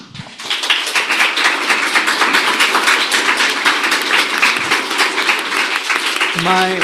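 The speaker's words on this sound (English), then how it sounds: "they deserve a loud round of applause" A large audience claps loudly and steadily at an international dialogue event on a world without nuclear weapons, a dense, sustained round of applause that fills nearly the whole stretch before a voice briefly returns at the end.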